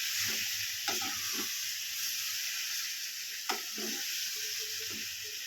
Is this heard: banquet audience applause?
no